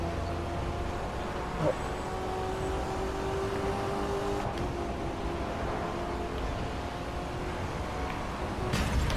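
Steady car engine drone from The Crew 2 racing game while driving across a bridge, a continuous mid-level hum with a brief bump partway through, no talking over it.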